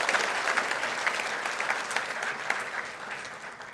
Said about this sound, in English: Please give a big round of applause to all of them